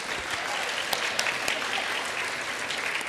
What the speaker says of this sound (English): Can we give Brooklyn a round of applause again?